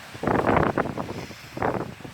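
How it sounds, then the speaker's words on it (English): Gusts of wind on a rainy day in the UK buffet the microphone in two rough bursts, loud and close, with a low rumble between them. "It's windy, it's rainy"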